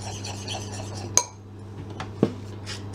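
Meatloaf mixture being mixed in a bowl, quiet utensil scraping with two distinct sharp clinks against the bowl over a steady low hum, no talking.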